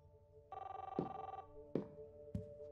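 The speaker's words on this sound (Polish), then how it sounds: "dzwoni telefon" A telephone rings inside a house in the Life is Strange video game, a steady electronic trill lasting about a second, with loud thumps cutting in around it.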